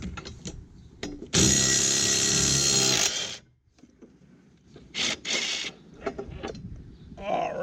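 A ratchet wrench works on the single 14mm bolt holding the blade of a Husqvarna 775EX push mower, with bursts of clicking and a loud sustained stretch of ratcheting, separated by quiet gaps and small clanks.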